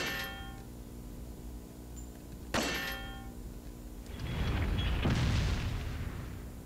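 Gunfire in Resident Evil 4 aimed at bringing down an object: a sharp single shot rings out, a second crack follows a couple of seconds later, then a heavier rumbling burst swells and fades.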